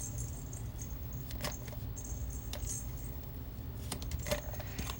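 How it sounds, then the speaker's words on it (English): A foster kitten plays nearby with a jingling toy, making small, soft metallic jingles in short bursts over a steady low background hum, with no voices. "If you can hear that little jingling, that is one of the kittens that I'm fostering."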